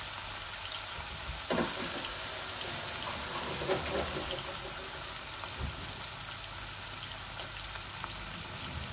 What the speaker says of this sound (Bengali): এখন আমি একটু গরম পানি দিব, যাতে আমার মশলাগুলা জ্বলে না